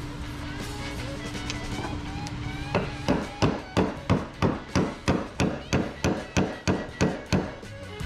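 Hammer taps on a part while fitting an Aces EFI Killshot throttle body on a third-gen truck, a steady run of about fourteen sharp, evenly spaced strikes after a few seconds of low background hum.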